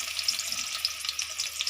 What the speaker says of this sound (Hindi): प्याज को हल्का ब्राउन कर लेंगे।